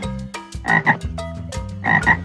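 A frog gives loud, close croaks in two clear bursts with short gaps between, each call rough and pulsing, with no voices over it.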